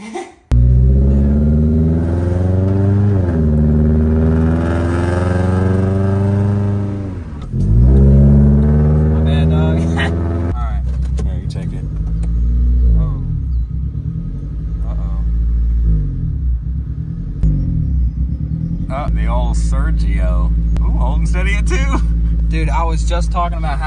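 A car engine starts and runs after a new throttle body gasket is fitted, loud and close, revving up and falling in surges, then settling into a lumpy rumbling idle while people talk over it.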